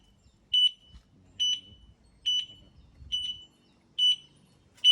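An electric tricycle's turn signal beeps at a steady pace, a high electronic chirp about once every ninety milliseconds short of a second, six chirps with faint low rustling underneath.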